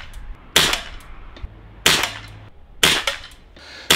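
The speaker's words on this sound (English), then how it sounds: "Bring that forward and the gun has now got a pellet in and it's ready to shoot." An Umarex RP5 CO2 airgun fires pellets in three sharp, close cracks spaced about a second apart, each followed by a brief tail, with quiet handling noises between shots.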